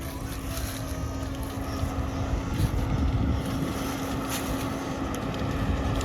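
A New Holland combine harvester runs steadily through a sunflower harvest on a no-till demonstration field in Kharkiv region, a continuous broadband engine drone with a steady tonal hum and wind noise over the microphone throughout.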